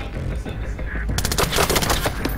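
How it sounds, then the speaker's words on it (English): Rapid burst of automatic gunfire in the video game Splinter Cell Blacklist, close and loud, starting partway through as a fast rattle of shots. "I just shot where your corpse was."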